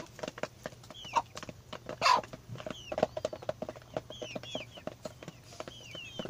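Chickens clucking and calling while being fed corn bran at sunrise on a small farm, with repeated close clucks and short squawks over a quiet background, no talking.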